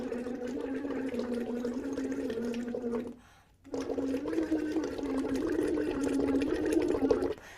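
Someone hums while blowing bubbles through a straw into a cup of water as a voice exercise, a steady pitched tone with bubbling gurgle, briefly stopping for a breath, then continuing close and loud.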